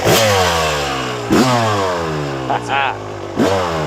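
A 1998 Yamaha YZ250 two-stroke motorcycle engine rips through sharp, loud revs close by, with a few quick blips between the longer pulls and a voice briefly heard underneath.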